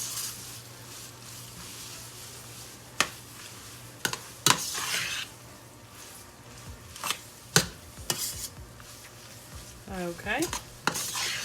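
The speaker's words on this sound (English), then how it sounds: "I'm just going to stir it up" Parmesan cheese being stirred into food in a pan on a stovetop: a spoon scrapes and clinks against the pan in irregular strokes up close, over a faint low hiss, with one brief spoken word.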